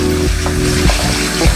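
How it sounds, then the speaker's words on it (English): Long grain white rice is swished and rinsed by hand in a pot of water, giving close, loud sloshing with a few splashy surges in quick succession. "So we have 2 cups of rice. We're gonna go ahead and wash it."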